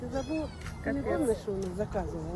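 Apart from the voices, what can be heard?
kitten meowing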